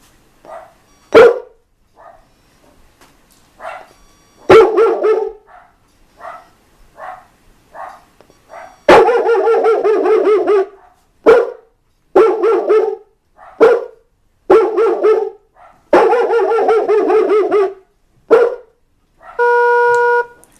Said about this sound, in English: it lets out a little bark, and then you move around it again and it barks a little more